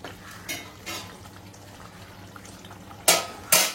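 Potatoes go into a pot of frying country chicken curry and are stirred, giving scattered metallic scrapes and clinks of a spoon against the pan, with two sharper, louder knocks near the end over a low sizzle.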